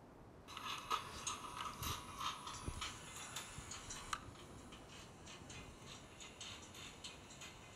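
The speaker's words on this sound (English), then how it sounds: "This is quite a big machine." A large guilloche engine-turning machine runs with a steady mechanical ticking and ratcheting, its gears clicking in a regular rhythm close by, with no talking.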